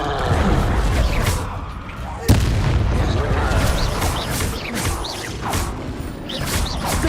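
Bombarda and Depulso spells cast in Hogwarts Legacy burst out as heavy booms, whooshes and crashes in quick succession, with a voice talking over the dense, loud battle noise.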